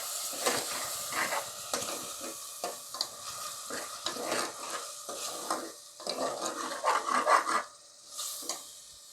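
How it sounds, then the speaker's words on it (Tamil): Ginger garlic paste being stirred and fried in a pan for mutton kurma over medium flame, with steady sizzling and repeated scraping strokes of a spoon, close and clear with no talking. "இஞ்சி பூண்டு விழுது அரைச்சி வச்சுருக்கோம்ல, அதை போட்டு மிக்ஸ் பண்ணிக்கலாம்"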